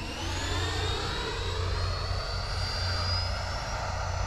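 A radio-controlled Freewing F-22 Raptor electric jet makes a slow high-alpha pass, its ducted fan giving a steady, high-pitched whine that holds moderately loud and close throughout, alone without speech.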